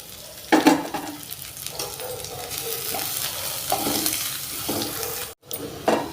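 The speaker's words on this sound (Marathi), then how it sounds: "कांद्याला थोडं परतून घेऊया" Spring onion sautéing in a hot pan with green chilli for a ragi vegetable soup, a steady sizzle broken by several scraping stirs and one brief pause.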